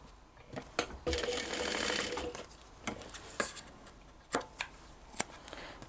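A home sewing machine basts along the top of a cross-body purse seam, its motor whirring steadily in a sustained burst, bracketed by sharp clicks and handling knocks of fabric and tools, close and moderately loud.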